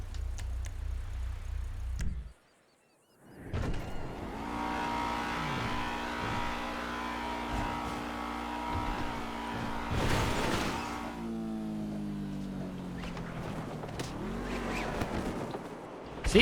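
A Rapid GT sports car driven in Grand Theft Auto, its engine droning and rising through revs with shifting pitch after a short gap of near silence, steady and close with no voices.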